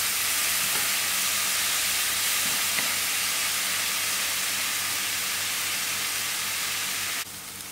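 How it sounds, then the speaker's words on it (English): Chopped tomatoes cooking down in a pan for a tinned pilchard chutney, giving a steady dense sizzle and steamy hiss throughout, close and even, with no voices, easing slightly at the very end. "And I will allow the tomatoes to cook out."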